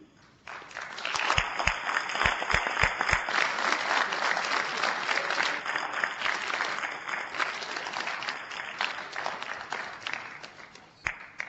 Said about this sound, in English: join us in a quick round of applause for Hall of Famer Warren Moon